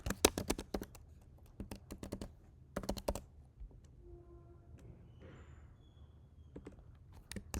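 Close, quiet typing of code on a computer keyboard, with rapid bursts of key clicks, a pause partway through, then a few more taps.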